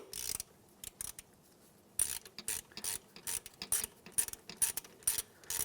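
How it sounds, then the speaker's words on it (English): A hand ratchet tightens a 10mm bolt on a 2003-2011 Honda Element during alternator replacement, giving close, loud bursts of rapid clicking in repeated strokes separated by brief pauses. "We're just going to tighten that, snug it, tighten it, give it an extra little quarter turn, and that's good."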